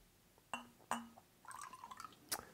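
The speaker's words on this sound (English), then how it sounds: "I'm going to pour about a tablespoon in." Apple cider vinegar poured from a bottle into a cup of water: a couple of soft glass clinks, then a short trickle of liquid and a final clink, close and quiet.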